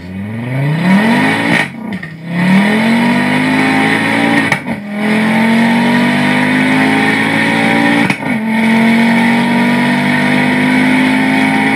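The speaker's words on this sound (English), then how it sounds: "Let's listen to a Focus RS accelerate" Ford Focus RS car accelerating hard: engine revs climb steeply through several gears, each upshift marked by a brief drop, loud and close with no talking.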